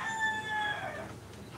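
A rooster crows once, a drawn-out bright call, fairly close and alone with no talk over it.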